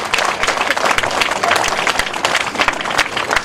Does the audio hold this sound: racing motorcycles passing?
no